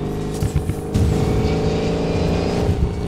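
A racing car's engine roars steadily in the video game Need For Speed Payback, loud and continuous with shifting revs and a surge of acceleration partway through, and no talking.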